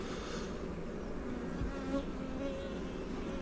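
Steady, dense buzzing of a gentle honey bee colony close by, a continuous droning hum with no voices.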